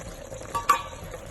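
Spinach biryani masala cooking in a pan, a soft steady simmering sizzle with a couple of faint stirring scrapes, close and low in level.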